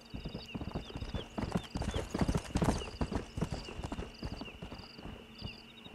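Clip-clop of a stallion's hooves in Red Dead Redemption, a steady trotting rhythm that swells nearer and then eases, with a faint whinny and a thin game-ambience tone running underneath.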